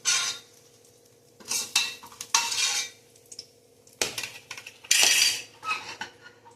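Metal plates and utensils clatter and scrape in a home kitchen while jackfruit biryani is being made, several loud clinks and clunks in bursts separated by short pauses, with no talking.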